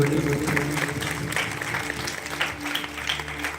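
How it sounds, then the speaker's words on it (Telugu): Church congregation clapping together during a prayer meeting at Thullur RCM church, a steady run of claps with a low sustained musical drone and crowd murmur under it. "సంతోషంగా చప్పట్లు కొడతామండి"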